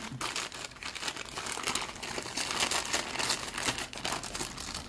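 A pack of one hundred small 6 by 9 plastic bags from a Temu haul is handled, giving a continuous dense crinkling and rustling throughout, fairly soft and with no one talking over it.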